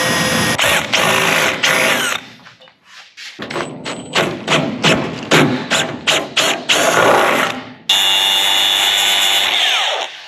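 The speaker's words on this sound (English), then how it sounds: "Let's drill a hole." A drill bores a hole through a car door on a Mustang project car, with loud bursts of whirring and rapid ratcheting thumps, pausing briefly between runs, close up.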